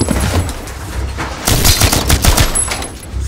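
Airsoft gunfire in a swamp sniper game as players shoot back, sharp close bursts of rapid shots, several clusters of snapping pops, loudest in the second half.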